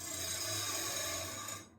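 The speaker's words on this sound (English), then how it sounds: "that's the sound of blades being sharpened" Steady, bright grinding rasp of a bandsaw blade sharpener working on blades at a sawmill, continuous and close for under two seconds before cutting off.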